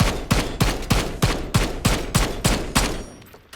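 Rapid hip fire from a Tsarkov 7.62 rifle at a video game shooting range: about nine sharp, loud shots in an even, quick rhythm, each with a short ringing tail, ending in a brief fading decay.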